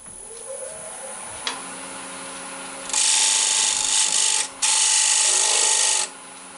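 Wood lathe cutting the inside rim of a first wooden bowl, a steady motor whine with a loud bright scraping cut rising near 3 seconds, broken by a short pause, then stopping near 6 seconds.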